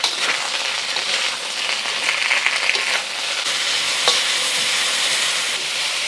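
Onions and peppers stir-fry in a hot pan for black pepper beef, a strong, even sizzle with scraping stirs and a few light clinks throughout, close and unbroken, with no talking.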